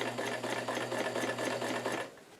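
Sewing machine stitching thick, bulky fabric for a newsboy cap, running in a fast, even mechanical rhythm for about two seconds before slowing to a stop, close and clear with no talk.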